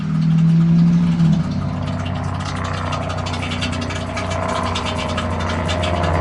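A passing truck engine-brakes down a hill with a steady low diesel drone, while a nearby idling engine holds a stronger tone at first before fading into the truck's continuous rumble.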